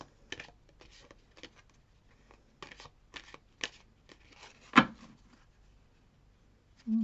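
A new deck of message cards is shuffled by hand in quick, soft riffling bursts with short pauses between them, ending in a louder snap and a brief low sound.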